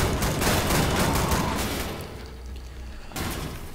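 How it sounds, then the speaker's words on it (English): Loud, dense shotgun fire in the first-person shooter Wolfenstein: The New Order, a rapid run of overlapping blasts that dips into ringing decay, then another sharp shot near the end. "let's fight shotguns with shotguns here"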